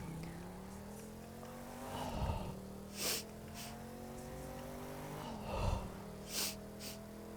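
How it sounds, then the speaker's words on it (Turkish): A 1967 Shelby GT500 engine in the video game The Crew 2 drones with a steady, rising tone, punctuated by two bursts of revving and sharp hissing releases as the car drifts. "Biraz arabanın sesini duyun siz ben susuyorum."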